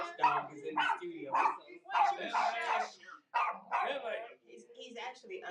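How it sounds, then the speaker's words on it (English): A small dog barks repeatedly from under a table in a studio, a run of close, yappy barks and whines in uneven bursts, with people talking over it. "He's actually under the table barking."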